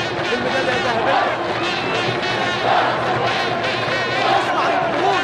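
An Algerian stadium crowd chanting for Egypt at an athletics meet, a loud, dense and continuous roar of many voices that swells and falls slightly, with no clear separate speech.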